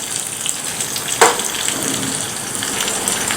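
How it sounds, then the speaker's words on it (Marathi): Chilies with a pinch of salt and asafoetida sizzle as a tadka in hot oil for a rice and dal dhokla. The steady close hiss carries one sharp crackle early on, with no talk. "हे व्यवस्थित मिक्स करून मस्त असा यात तडका तयार करून घेऊया"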